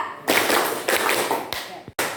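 Students in a school social studies class do a rhythmic clapping game, clapping together in four quick, loud bursts of many hands at once, with voices faintly alongside.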